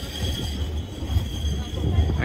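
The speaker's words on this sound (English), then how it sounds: "Trams all over. It's a very important mode of transport in Amsterdam." A tram rumbles through the streets of Amsterdam, a low steady rolling noise with a faint high whine above it, heard fairly close amid city background and some talk.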